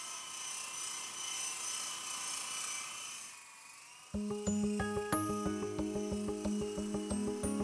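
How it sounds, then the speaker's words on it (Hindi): Remote-controlled toy helicopter flying: a steady whirring drone for a few seconds, a brief dip, then a louder buzzing with rhythmic pulsing rotor beats continuing to the end, no talk. "पतंग नहीं है, रिमोट वाला हेलीकॉप्टर है,"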